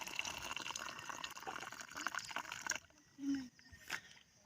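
Water poured into a glass at a night campsite, a trickling, splashing stream fading into a few drips and a short sloshing gurgle, faint and close.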